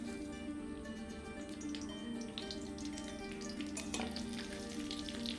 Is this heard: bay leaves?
yes